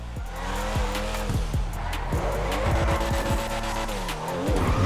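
A Porsche Comet S2 drifting in GTA Online, tyres squealing and skidding in repeated rising and falling whines over a loud, steady engine drone, with close, continuous sliding throughout.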